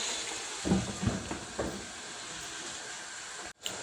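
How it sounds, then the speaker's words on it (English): Beef pilau simmers in a covered pot, a steady, soft sizzling hiss with a few faint bubbling pops near the start, ending in a brief clatter. "You cover, you leave it to simmer."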